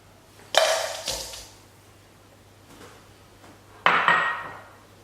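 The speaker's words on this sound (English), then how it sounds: "combine all your dry ingredients in a large bowl" Dry ingredients for Anzac biscuits tipped into a large bowl in a home kitchen: two short, bright rustling clatters a few seconds apart, close by, with quiet between them.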